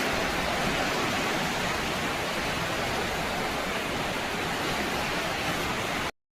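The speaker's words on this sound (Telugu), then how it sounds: "సో ఆ వాటర్ ఫ్లో చూడండి ఆ సౌండ్కి నేను ఫిదా అయిపోతాను" Water rushes continuously through canal locks in a loud, steady roar, like a strong flow pouring through a channel, with no pauses until it cuts off abruptly.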